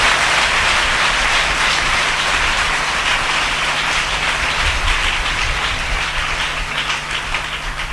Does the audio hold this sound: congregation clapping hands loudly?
yes